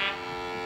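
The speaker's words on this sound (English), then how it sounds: "That foghorn is so loud it rattles my dome." A short, loud foghorn blast rolling through a misty valley, a single steady, heavy tone heard alone and cut off abruptly.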